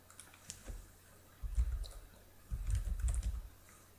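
Computer keyboard keys clack in two short bursts of typing, close and soft, with a few scattered clicks before and a low thump under each burst.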